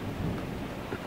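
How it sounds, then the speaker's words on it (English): Steady rain falls during a thunderstorm, a dense, even hiss of drops with a low rumble underneath, continuous and fairly close. "the rain's picking up"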